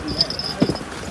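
A few hoof clops from horses on the trail in the Baisaran valley near Pahalgam, Kashmir, brief and fairly close, heard under people talking.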